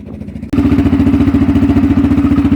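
A Polaris Sportsman 500 ATV, troublesome after a rollover, starts up and runs with a loud, steady, rapidly pulsing engine note that continues without a break after a short quieter lead-in.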